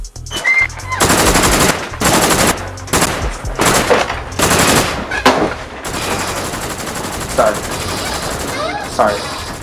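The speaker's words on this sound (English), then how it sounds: "It seems like he does have a gun. A bigger gun. Much bigger gun." Bursts of heavy machine gun fire from a big gun rattle out in several loud, rapid strings, separated by short pauses, then give way to a quieter, noisy tail.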